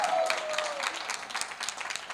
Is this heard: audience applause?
yes